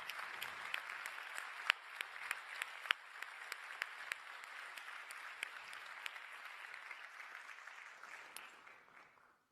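A lecture-hall audience at an economics prize lecture breaks into sustained applause, many hands clapping in a dense, even patter that fades out at the end.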